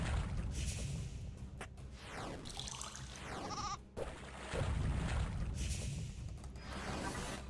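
Goat bleats from a video game, repeated short cries over steady game music and ambient sound, fairly close and moderately loud.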